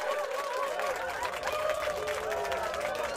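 A congregation gives a hand clap of praise, producing a steady, moderately loud patter of many hands clapping together, with crowd voices mixed in underneath.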